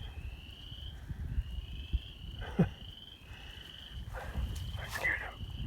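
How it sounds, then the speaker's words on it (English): Spring frogs on a cattle farm call in a high, steady trill that pauses and resumes, with a few sharper chirps near the end, fairly faint against a quiet outdoor background with occasional soft thumps. "When the frogs start chirping, croaking, whatever they do."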